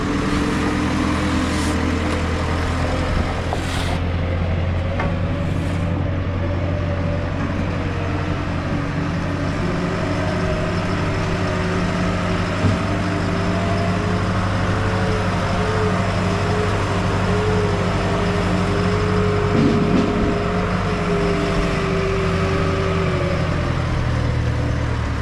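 JCB loader engine running steadily at a concrete block plant, a continuous loud diesel drone with deep low rumble that holds throughout, with no voices over it.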